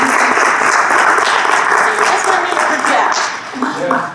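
An audience at a talk on Revolutionary War stories of South Carolina breaks into sustained, loud applause that keeps going for several seconds before easing slightly near the end.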